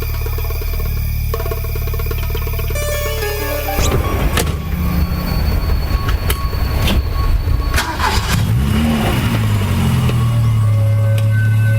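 A car engine cranks and catches, then roars to a loud, rough idle with squealing and revving, up close after a few seconds of quieter background.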